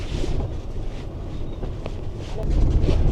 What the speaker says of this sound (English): I'm more worried about the wind. It is just... It's whipping, isn't it?